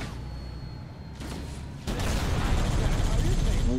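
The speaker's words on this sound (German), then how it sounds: "Fuck, die Explosion" A loud explosion bursts in the Halo video game, a sudden heavy blast two seconds in that is followed by sustained rumbling and debris noise, with a player talking over the game sound.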